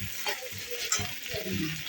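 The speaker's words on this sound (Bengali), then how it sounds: "এখানে আলু ভাজা হচ্ছে" Potatoes frying in a pan for a home-cooked lunch, a soft continuous sizzle with a few stirring scrapes and one sharp clink, close and fairly quiet, no talking.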